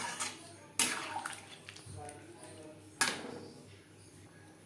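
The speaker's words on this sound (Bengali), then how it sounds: "এই পর্যায়ে দিয়ে দেব জল" Water is poured into a cooking pot of jackfruit and prawn curry, two distinct splashing pours standing out over a quieter kitchen background.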